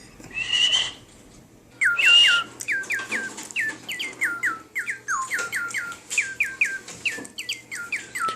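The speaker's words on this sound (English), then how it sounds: "You whistle into it and it repeats what you think." A toy bird that repeats whistles plays back a long run of bright, close chirping whistles after two opening whistle bursts, in rapid repeated phrases against a quiet background.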